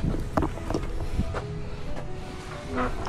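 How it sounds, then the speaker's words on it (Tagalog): Steady gusty wind rushes across the microphone, a broad continuous roar with faint scattered knocks and rattles underneath. "Lumalakas na po ang hangin"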